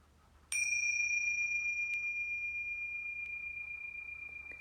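A meditation bell struck once during a guided breathing practice, ringing out with a clear, bright tone that sustains and slowly fades in a quiet room, with no talking.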